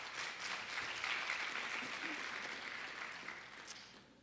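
Audience at a poetry event applauding its sponsors, a faint, distant wash of clapping that swells slightly and then tapers toward the end.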